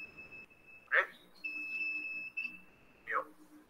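An electrical tester's buzzer sounds in short steady electronic tones, a clear beep around the middle of the clip, with brief clicks or handling noises at the start and end and a quiet room behind.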